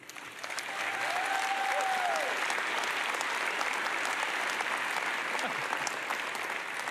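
Keynote conference audience applauding, a steady dense wash of clapping that holds loud and even throughout, with a brief whistle near the start.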